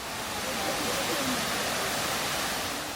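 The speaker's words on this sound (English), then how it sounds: "The sight and sound of the cascading water are truly mesmerizing." The cascading falls at Krka National Park roar as a steady broadband rush of water, close and continuous.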